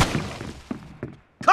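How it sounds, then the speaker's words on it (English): A weapon reload in the mobile shooter PUBG Mobile gives a handful of short, dull mechanical thunks and clicks spaced across a second and a half, ending in a sharper, brighter burst. "Reloading!"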